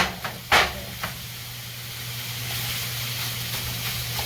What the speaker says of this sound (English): I'm gonna let the sausage cook for a little while